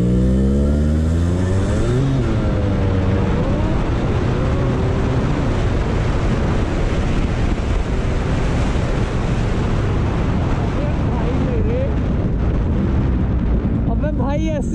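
A Yamaha RX 100 two-stroke motorcycle accelerating hard, its engine note climbing through the revs under heavy rushing wind noise, loud and close throughout the ride.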